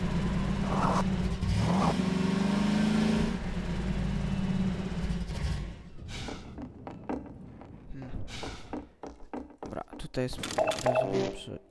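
A car driving in Half-Life 2, its engine droning and rising in pitch as it speeds up, then a series of clunks and knocks, with a voice talking over it.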